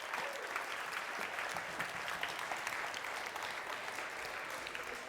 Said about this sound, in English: Give that person a round of applause